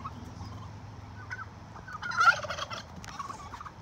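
Turkeys gobble in a burst of rapid, warbling calls midway through, over steady background noise and scattered rustling.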